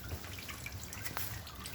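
Motor oil dripping from a loosened car drain plug under the vehicle: a few faint, sparse drips over a low steady hum, no talking.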